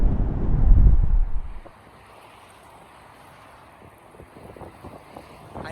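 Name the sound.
wind blowing outdoors into an uncovered microphone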